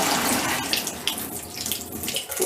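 Water runs steadily into a home brew vessel, a continuous broad splashing rush with slight fluctuations, close and fairly loud, with no voices.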